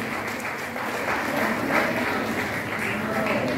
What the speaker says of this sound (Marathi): आपल्या सर्व सभासदांना जोरदार टाळ्या